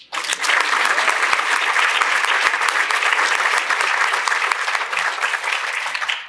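A room full of people claps for a panel at a Chicago community policing discussion, starting abruptly and holding a thick, even roar of applause before tapering slightly at the end.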